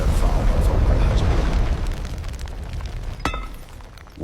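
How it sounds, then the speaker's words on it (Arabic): A huge explosion, set over the sky of Cairo, opens as a loud, deep, rolling boom that slowly fades into a rumbling tail, with a sharp crack cutting through near the end. "وضرب الحجر بكل قوته انفجار ضخم أضاء سماء القاهرة"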